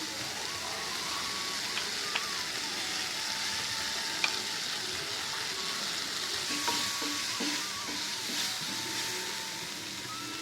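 Spice powders and ginger-garlic paste fry in oil for a potato kurma, giving a steady, even sizzle with occasional soft stirring clicks and faint scrapes throughout.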